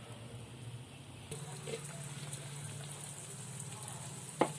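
Anarse, a Maharashtrian sweet, deep-frying in hot oil over a low flame, giving a steady close sizzle and crackle throughout, a little louder after the first second, with a sharp clink near the end.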